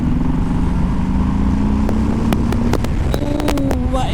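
Harley-Davidson Sport Glide motorcycle cruising in third gear on an open road, a steady loud engine drone with heavy wind buffeting throughout and rising tonal whine near the end.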